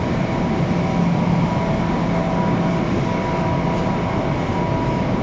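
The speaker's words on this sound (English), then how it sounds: "Long Beach train is getting overcrowded." An LIRR Long Beach train departing Penn Station, a steady loud rumble of rolling rail cars and motors holding evenly throughout, with no talking.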